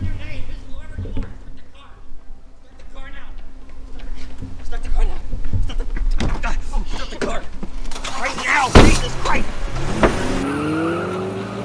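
A car drives along with engine and road noise under ongoing talk, building to a louder burst near the end with a tire squeal and rising engine revs.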